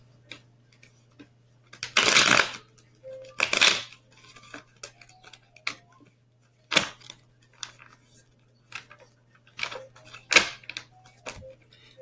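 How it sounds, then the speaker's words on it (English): A deck of tarot cards is shuffled in bursts, with quick riffling ruffles and scattered soft taps and clicks between them in a quiet room. "I'm just shuffling my cards to make sure"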